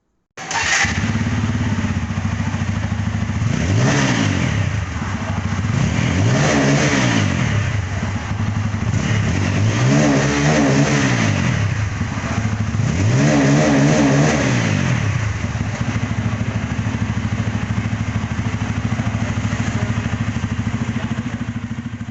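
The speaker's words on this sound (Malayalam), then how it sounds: "എക്സോസ്റ്റ് നോട്ട് സൂപ്പറാണ് കേട്ടോ. അപ്പോൾ നമുക്ക് അതൊന്ന് കേട്ട് നോക്കാം." A Bajaj Pulsar N250 BS6 motorcycle with a small dual exhaust idles steadily, then revs up in four or five distinct throttle blips before settling back to idle, loud and close with no talking.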